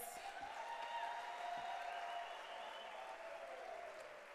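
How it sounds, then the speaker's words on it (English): Loud, sustained applause from a convention audience at UNISA in South Africa, a dense wash of clapping that holds steady for several seconds and eases slightly toward the end. "A louder round of applause."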